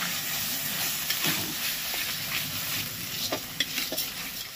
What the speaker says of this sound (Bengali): এবার এটাকে কষিয়ে নেব।